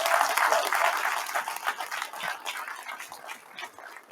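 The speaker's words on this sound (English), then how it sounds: "Let's give them a big round of applause." Audience applause at a local candidates' forum, a broad wash of many hands clapping, loudest at the start and gradually thinning and fading over several seconds, with faint voices underneath.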